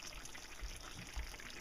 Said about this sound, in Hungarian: Picike vízzel megint felöntöm.